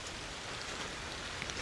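Rain falls on a freshly washed Ram dually truck outdoors, a steady, faint broadband hiss of drops throughout with no talking.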